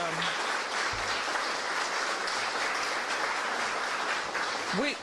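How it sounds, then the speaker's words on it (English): A crowd applauds state senators at a bill-signing event on affordable housing in Illinois, a short, fairly quiet burst of clapping with a few voices mixed in. "Let's give them a round of applause"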